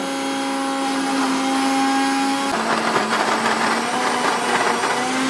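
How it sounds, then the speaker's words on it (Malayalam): A kitchen blender whirs steadily while mixing a tender coconut shake with Milma milk. The motor's pitch shifts midway as the blend changes, and it runs loud and close throughout with no talking. "കരിക്കിൻ ഷേക്ക് അടിക്കുവാണ്"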